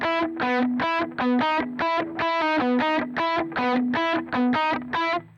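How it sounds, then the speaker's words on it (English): A distorted electric guitar plays a quick repeating pattern of picked notes, dry and close, each note cut off cleanly with no echo trailing. "So here it is without reverb or delay."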